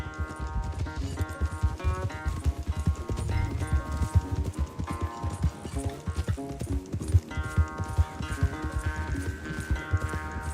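A horse gallops hard during a race in the video game Red Dead Redemption II, its hooves drumming in a fast, steady rhythm over a bed of music throughout.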